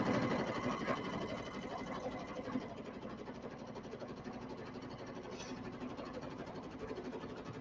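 Sewing machine stitching fabric in a lock stitch, a continuous close, steady motor drone with rapid needle chatter running throughout, with no speech over it.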